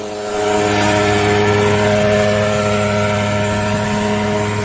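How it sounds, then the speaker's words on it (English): A truck carrying a mosquito-spraying blower in its bed drives away, giving off a steady, loud droning hum with a constant mechanical whine that barely changes over the few seconds. "That sound that you hear is that mosquito spraying blower in the back of the truck."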